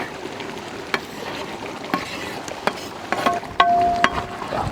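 Cumin powder being stirred into a mutton gravy in a large pot in an outdoor village setting; soft sizzling under sharp intermittent clinks and scrapes of a ladle, with a few louder knocks near the end.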